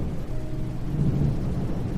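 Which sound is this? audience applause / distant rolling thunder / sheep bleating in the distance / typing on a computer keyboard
distant rolling thunder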